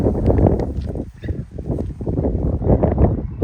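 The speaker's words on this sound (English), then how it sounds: "it might be too windy down here now" Gusty wind roars across the microphone in continuous low buffeting, dipping briefly before surging again.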